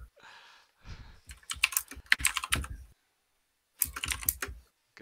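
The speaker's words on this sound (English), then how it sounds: "Keystrokes." Computer keyboard keystrokes clatter in quick irregular bursts, with several fast runs of typing separated by short pauses, fairly close and alone without any talking.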